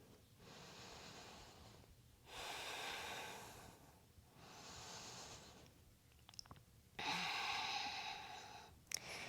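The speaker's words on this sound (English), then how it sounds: "just breathe." Slow, deep breaths during a yoga pose, each long inhale and exhale audible up close with quiet pauses between, a soft sighing rush repeated about four times.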